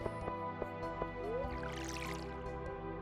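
Game-style watering in Stardew Valley: a soft liquid pour with droplet splashes rises over a steady bed of background music, with small drips and clicks scattered through it and no talking.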